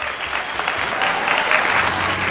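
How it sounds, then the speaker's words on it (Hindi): A poetry recital audience gives a poet loud, dense applause, sustained evenly across the short stretch without any voices on top. "जोरदार तालियां सीमा मधुरिमा जी के लिए।"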